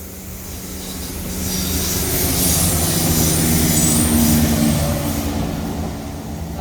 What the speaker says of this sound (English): My wife just spotted an active train coming.